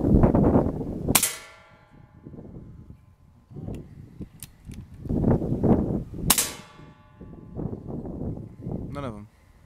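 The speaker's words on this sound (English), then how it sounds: "I'm gonna shoot the polymag first." A .22 air rifle fires Predator Polymag pellets at a metal target, giving two sharp metallic clangs several seconds apart, with people talking between and around the shots.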